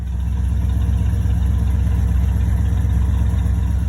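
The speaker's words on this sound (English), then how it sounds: "it sounds good with a dual exhaust" An Oldsmobile engine with Tri-power carburetion and dual exhaust idles with a deep, steady burbling rumble, loud and close, its exhaust note even and continuous throughout.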